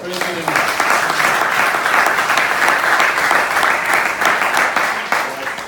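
A church congregation applauds for the Lord, dense sustained clapping from many hands filling the room, loud and continuous with a voice faintly audible beneath.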